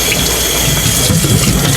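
Tap water runs in a steady close rush for a rinse of freshly hatched brine shrimp, a loud continuous gushing with no voices over it.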